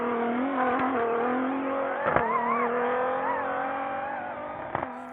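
Toyota Hilux Rally Raid T1 Plus rally car at a South African off-road race in Parys, its engine droning steadily with revs rising and falling in smooth sweeps and a couple of sharp transient knocks, loud and continuous.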